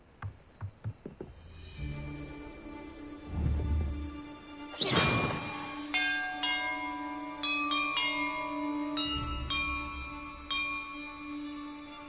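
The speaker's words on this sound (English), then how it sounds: "Perhaps the map contains clues about the order I'm supposed to ring the bells in." Bells ring in the video game Hogwarts Legacy: a few soft chimes early on, then several loud, resonant strikes that overlap and leave long ringing tails, along with deep rumbling whooshes.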